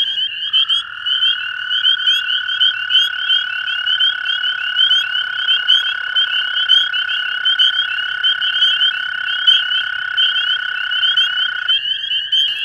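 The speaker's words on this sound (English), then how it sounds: "these spring peepers and the American toads behind us calling" A dense chorus of spring peepers and American toads, with a sustained toad trill held steady under countless high, rapid peeps, loud and continuous.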